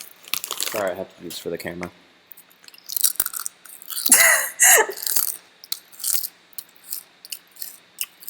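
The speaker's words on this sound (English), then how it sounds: "Nice chewing." Someone chews a mouthful of chocolate cookies and cream ice cream made with cashew milk close to the mic, giving wet, crunchy bursts in uneven clusters, after a short spoken apology at the start.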